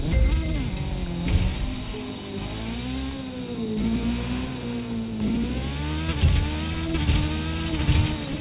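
A Ferrari engine drives and accelerates continuously in The Crew 2, its revs rising and falling with shifting harmonic pitch, loud and up close.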